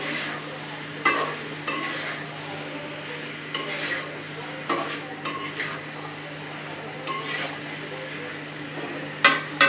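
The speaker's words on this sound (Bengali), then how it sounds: "এটা আমি অনেকক্ষণ ভাজবো" Papaya and other food fry in a pan with a low sizzle underneath, while a utensil scrapes and clinks against the pan in irregular stirring strokes, each one near and distinct.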